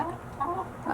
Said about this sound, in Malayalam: അടുത്ത കോഴി കൂടി എത്തിയിട്ടുണ്ട് മുട്ടയിടാൻ വേണ്ടിയിട്ട്